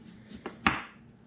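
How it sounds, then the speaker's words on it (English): A knife chops homegrown, cured vegetables on a cutting board, giving two or three quick, close taps with the last one sharpest, in a quiet kitchen. "So I'm going to start by chopping these up and taking off any bad spots that I might see."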